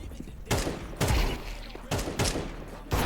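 Gunfire in Counter-Strike 2: four loud, broadband shots or short bursts at irregular intervals, each ringing out briefly over a low background hum.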